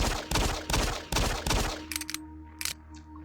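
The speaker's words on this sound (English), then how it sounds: "So right away I got the pistol set up, some of the sound effects," A pistol from Doom 3 recreated in Unreal Engine fires four loud, evenly spaced shots close by, followed by quieter mechanical clicks and clacks.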